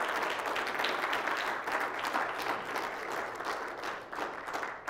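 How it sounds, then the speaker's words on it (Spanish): A church congregation breaks into sustained applause, a steady wash of many hands clapping at moderate distance for several seconds without speech. "denle un fuerte aplauso al que vive"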